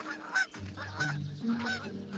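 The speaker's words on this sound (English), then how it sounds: "the princess left her horse Falada and started herding geese in the meadow with Conrad." Several geese in a meadow honk in a loose series of harsh, nasal calls, fairly close and loud, with short gaps between them and no talking.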